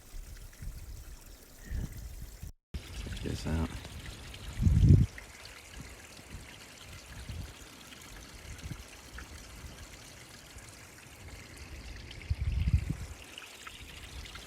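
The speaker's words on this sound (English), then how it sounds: "Get it myself from the mountain stream." A mountain stream on the Appalachian Trail flows as a steady, soft trickle and gurgle, fairly faint and continuous, with a brief spoken remark and a few handling bumps.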